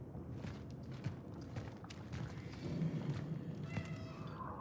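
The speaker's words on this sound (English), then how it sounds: "You hear that, right? There's a cat around." A cat meows in the video game Cronos: The New Dawn, moderately loud calls rising above shuffling footsteps and dense game ambience.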